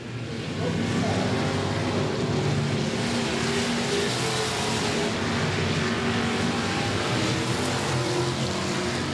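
Dirt track race cars roar around Golden Triangle Raceway Park, a dense, steady wall of engine noise with no break, loud and close throughout.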